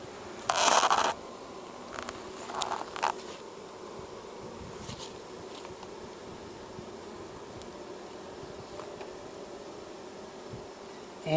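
A steady, low hum of many honey bees buzzing in an opened hive fills the clip, with a few brief scraping and rustling noises near the start.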